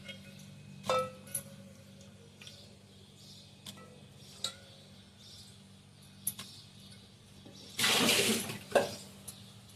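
Water pours briefly into a cooking pot for boiling potatoes for a drumstick and potato gravy, a short splashing rush after a stretch of quiet kitchen clinks and ticks.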